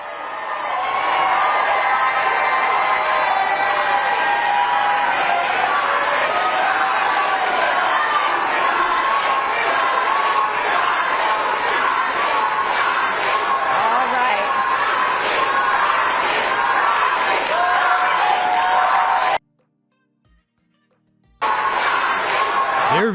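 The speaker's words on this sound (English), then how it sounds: "So now is the time for your applause." Audience at a Florida gubernatorial debate between Ron DeSantis and Charlie Crist applauds and cheers the candidates in a dense, sustained roar of clapping and voices that runs for about nineteen seconds, then cuts off abruptly before a brief return.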